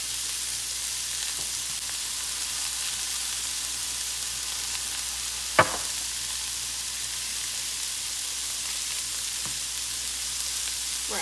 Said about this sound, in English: It should sizzle like that.